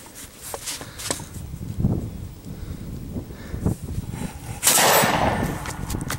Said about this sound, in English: Let's go ahead and shoot the other Slamfire and just show you what it can do.